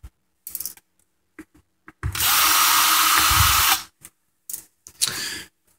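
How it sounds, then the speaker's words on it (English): A power drill backs screws out of a hard drive casing: short clicks and brief bursts, then a close, loud sustained whir lasting under two seconds, followed by more quick taps and a short final spin. "Just taking the screws out around the perimeter"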